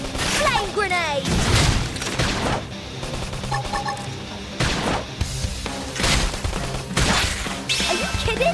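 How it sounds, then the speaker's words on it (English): Flame grenade detonating amid combat in Metroid Prime 4, with loud crashing blasts and rapid gunfire bursts repeating every second or so, heavy booms layered over a busy battle din, and voices talking through parts of it. "Flame grenade."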